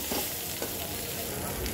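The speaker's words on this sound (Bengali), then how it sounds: "ভাজা ভাজা করে নেব।" Shrimp fry in oil with a dense, steady sizzle, close and continuous, no voices.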